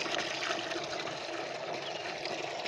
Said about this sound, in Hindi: ये देखो पानी इधर से मोटर के जरिए आता है पानी।